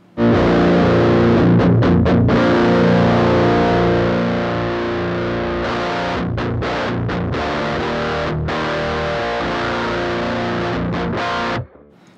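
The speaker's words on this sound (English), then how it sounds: "turn the mid control down to get it like a scoop sound" Loud distorted electric guitar through a Master Effects Super Forty overdrive pedal with mids turned down, giving a hollow, scooped tone; sustained chords with brief choppy breaks, played alone until it cuts off.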